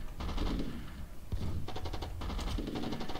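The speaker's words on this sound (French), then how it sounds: "Attention, là-bas, il y a de la mitrailleuse lourde qui nous attaque." Rapid bursts of heavy machine gun fire in the Rise of Nations strategy game, loud rattling volleys repeating in quick succession with short gaps, with game sound underneath and no talk.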